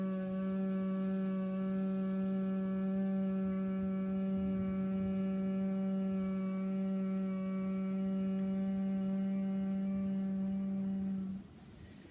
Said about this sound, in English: As we exhale, humming in the throat, the sound of Om.